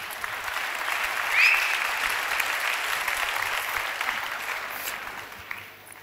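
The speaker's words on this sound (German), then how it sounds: "Applaus" An audience applauds a political speaker at a conference, producing steady, dense clapping from a sizable crowd that holds throughout and tapers slightly at the end.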